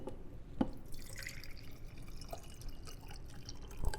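Hot water being poured into a jar, a close, continuous liquid trickle and splash with dripping accents, heard alone without talk.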